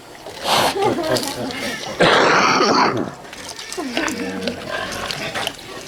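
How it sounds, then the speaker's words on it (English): A pig grunts and snuffles up close amid wet splashing and sloshing, with a person talking softly in between. "she is a pretty special pig"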